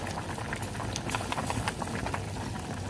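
Pot of bamboo shoots and pork bones boiling on the stove gives a steady bubbling, gurgling hiss with small irregular pops throughout, close and fairly quiet.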